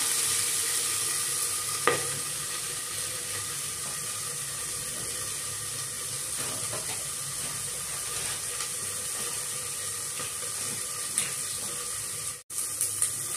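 Tempering for dal tadka crackles and sizzles steadily in hot oil in a pan, a continuous frying hiss with a few louder pops and a brief clatter near the end.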